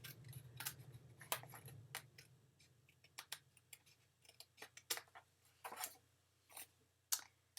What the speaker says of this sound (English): I'm going to open up the card base and give it a little trimmeroo.